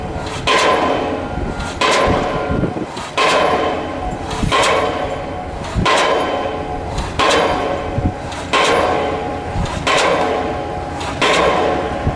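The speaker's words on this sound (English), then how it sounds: "This is a diesel hammer in action, folks." Heavy rhythmic pounding from a diesel pile hammer driving a beam into the ground, about eight loud strikes at regular intervals, each followed by a brief pause.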